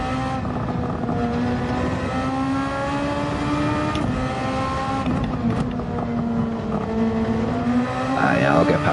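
Race car engine in Gran Turismo 7 at Spa, overtaking another car, with a loud, sustained high-revving whine that holds steady and then shifts pitch, with a second car's engine audible near the end.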